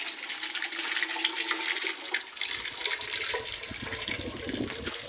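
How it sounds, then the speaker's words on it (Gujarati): Water from a running village supply pours into containers at home, a steady rushing and splashing that deepens partway through as the vessel fills, heard fairly close without talk. "ત્યાં પાણી ભરવાનું ચાલુ છે"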